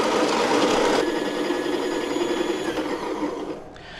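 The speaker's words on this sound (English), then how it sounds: "let's grind this up." A ceramic burr coffee grinder grinding coffee beans, a close, steady buzzing whir with gritty crunching that continues for a few seconds before easing off at the end.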